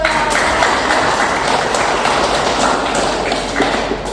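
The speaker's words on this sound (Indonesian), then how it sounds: "kita beri aplaus untuk" An audience claps for a group presentation in a classroom or seminar, a dense, steady patter of many hands that holds at an even level for several seconds.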